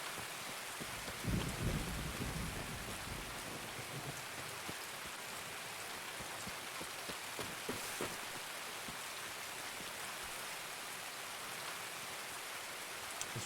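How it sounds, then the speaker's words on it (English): Heavy rain hisses steadily in the shooter game Escape from Tarkov, a dense, constant wash with a low thunder rumble swelling near the start; no one speaks. "This rain is crazy."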